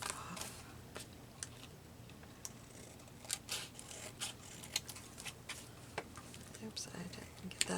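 Scissors snip through paper for a junk-journal collage, with scattered short, crisp cuts and rustling at close range, faint overall, mixed with soft handling noises and quiet talk.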